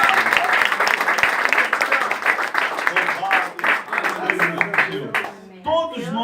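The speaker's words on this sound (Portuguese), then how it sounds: "Aplauda agora." A church congregation at an Assembleia de Deus service bursts into brisk, dense clapping and cheers that thin out into scattered claps, with voices calling over the applause.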